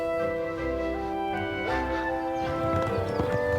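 Horses clip-clop past at a wedding setting, their hoof beats coming in loose irregular clusters over a steady musical backing, with no talking.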